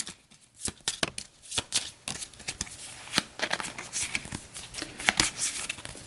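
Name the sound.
shuffling a small deck of game cards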